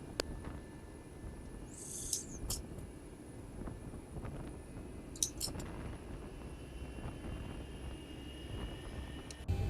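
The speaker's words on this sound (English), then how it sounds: "Starting number 2 engine" Number 2 engine of a Boeing 737 (Zibo mod) starting in a flight simulator, a faint, low, steady rumble with a thin whine and a few soft clicks.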